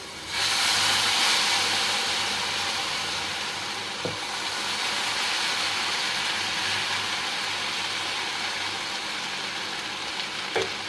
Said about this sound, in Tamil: இப்போது இந்த அடை மாவை, அதாவது தக்காளி தோசையுடைய மாவை நான் அதில் வந்து ஊற்றுறேன்.